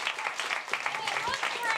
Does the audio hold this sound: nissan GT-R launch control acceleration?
no